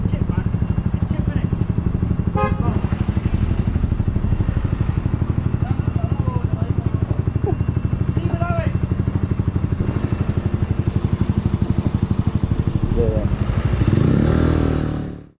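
Several motorcycles ride through a forest with their engines droning loudly and continuously. The revving swells near the end, and people talk over the engine noise.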